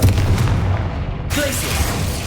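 A Confringo blasting spell goes off in Hogwarts Legacy. It lands as a sudden booming burst over a rumbling low background, followed by a crackling tail.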